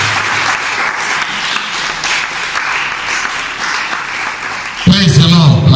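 A church congregation claps and cheers loudly in a dense, continuous wash of applause, with a voice rising over it near the end.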